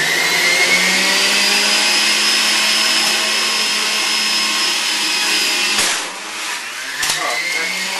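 A Breville Juice Fountain Plus JE95XL juicer runs at full speed on a whole apple, a loud steady high-pitched motor whine with grinding that dips briefly near the end, then resumes with a couple of sharp knocks.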